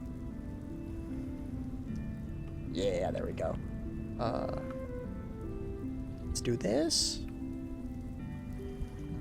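Steady rain falls in a Minecraft world, a continuous patter of drops on surfaces that runs the whole time beneath a voice speaking in short bursts.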